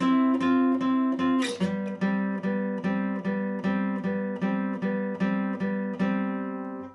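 A guitar plays a bridge chord progression and riff at real speed, a sustained chord followed by a steady run of evenly picked, ringing repeated notes, clear and alone.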